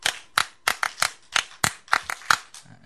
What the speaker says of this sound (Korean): 박수 10번 시작.